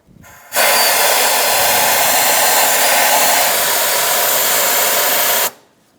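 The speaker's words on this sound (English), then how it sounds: "Using a vacuum, we're going to suck up all the debris around the fuel pump cover." A vacuum cleaner switches on with a loud, steady rushing whine, runs continuously for several seconds, then shuts off and winds down, sucking up debris around the fuel pump cover of a 2010-2014 Subaru Outback.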